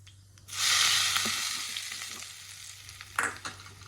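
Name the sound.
hot mustard-cumin tempering poured into potato pancake batter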